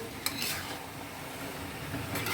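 Chicken with papaya, carrot and green chilies sautéing in a pan, a steady stir-fry hiss with spoon scrapes against the metal, close and moderately loud throughout.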